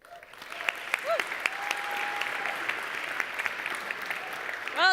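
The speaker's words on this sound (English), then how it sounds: "you're getting very good at this clapping thing" An audience at a startup pitch competition breaks into sustained, close applause that swells and holds, with a voice speaking over the clapping near the end.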